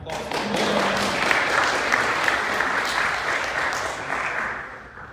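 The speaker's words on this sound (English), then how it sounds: "Yeah, that's a round of applause." Sustained applause from an audience at a city's State of the City address, a dense steady wash of clapping that holds for several seconds and fades slightly at the end.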